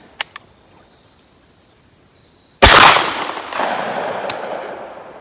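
A single loud shotgun blast fires a 20 gauge slug outdoors, a sharp crack that rolls off into a long echoing decay, with a couple of faint clicks before it and insects chirping in the background.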